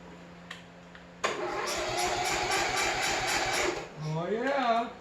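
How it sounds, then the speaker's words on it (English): An old 2007 Troy-Bilt lawn tractor engine cranks over loudly and steadily for a few seconds after a short pause, then drops off into a wavering tone as it winds down. "let's see if this thing will crank over."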